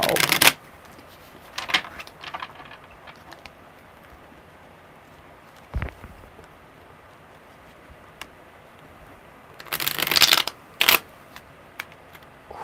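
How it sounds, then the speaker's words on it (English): Tarot cards being shuffled in bursts: a quick riffle at the start, a couple of brief rustles and taps, then a longer flurry of riffling near the end, close and crisp against a quiet room. "Good shuffle"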